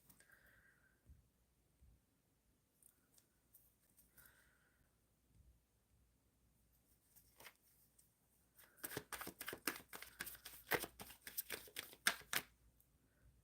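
Tarot cards shuffled by hand at close range, a rapid burst of crisp riffling clicks lasting several seconds after a mostly quiet stretch with a few faint soft rustles.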